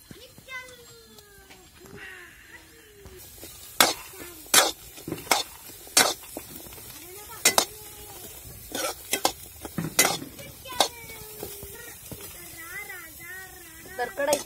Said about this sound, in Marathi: तर कढईत मी कांदा टाकलेला होता आणि आता आपला कांदा पण चांगला गरम झालेला आहे